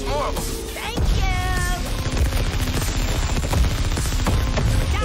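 Rapid bursts of gunfire and explosive impacts from the Suicide Squad: Kill the Justice League shooter game fill the clip loudly and continuously, layered with music and effects.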